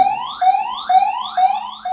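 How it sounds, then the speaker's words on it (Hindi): Electronic alarm from a ghost-hunting sensor device in a temple near Menal waterfall, Rajasthan, a loud rising chirp repeating about every half second, alone and close. "ये अलार्म बज रहा है।"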